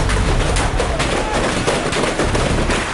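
Gunfire during an army encounter with a Lashkar terrorist commander in Kashmir: dense, sustained bursts of shots and broadband crackle fill the scene continuously, loud and close, with no clear pauses.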